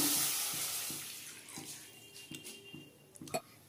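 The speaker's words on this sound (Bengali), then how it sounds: "আমি একটা কড়াইতে 1 গ্লাস জল দিয়ে দিচ্ছি" Water pours steadily into a wok, starting as a loud rushing splash and tapering off, with a soft background hum.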